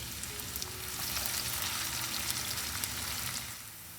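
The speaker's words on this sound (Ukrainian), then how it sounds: "Дрібно порізану цибулю відправляємо в розігріту олію і підсмажуємо до золотисто-коричневого кольору" Finely chopped onion sizzling in hot oil in a pan, a dense continuous crackling hiss that holds steady and eases slightly near the end.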